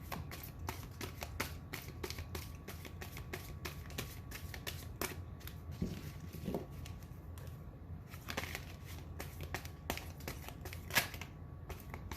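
Tarot energy cards are shuffled by hand, giving a quiet, continuous run of soft riffling and flicking card sounds close to the listener.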